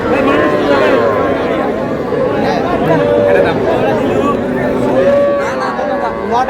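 Cattle, including young bulls and heifers, at a farm sale in Brahmanbaria, with a steady crowd murmur and overlapping talk throughout and the animals' low calls mixed into the continuous hubbub.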